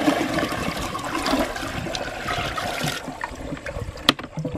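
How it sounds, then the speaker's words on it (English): A power-assisted toilet flush surges loudly and steadily for about three seconds, then tapers into trickling and gurgling water with a few sharp knocks, close by with no talking. "So that was a perfect flush"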